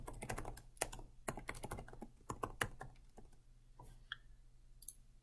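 Quiet, rapid clicking of keys on a computer keyboard as an email address is entered, in irregular bursts that thin out toward the end.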